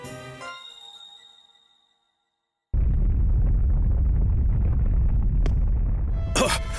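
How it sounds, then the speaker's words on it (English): A deep, sustained rumble of an earthquake in the dungeon RPG Labyrinth of Galleria, bursting in loudly after a fading chime and near-silence, then rolling on evenly with a brief crackle near the end. "Oh, that sure was a big earthquake just now."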